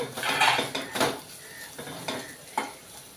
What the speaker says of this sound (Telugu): ఇలా ఒక రెండు నిమిషాల పాటు వేయించుకోవాలి